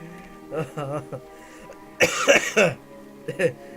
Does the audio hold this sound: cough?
yes